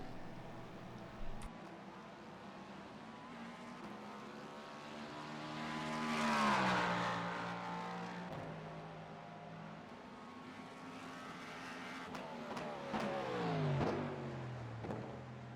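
Race car engine in an IMSA racing video game, driving out to warm up the tires: a steady engine drone with rising and falling revs, swelling louder around the middle and again near the end, with no talk.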